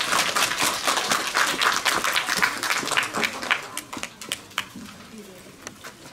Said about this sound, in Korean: 여러분, 정덕권 회장을 큰 박수로 맞이해 주시기 바랍니다.